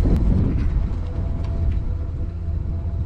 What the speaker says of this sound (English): It's been sitting here idling.